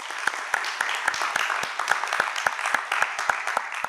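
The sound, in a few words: audience applauding both debate teams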